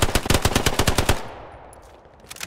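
Rapid automatic gunfire from a player's weapon in Hell Let Loose: a loud, tightly spaced burst of about a dozen shots for just over a second, then a fading echo tail and a couple of faint distant shots.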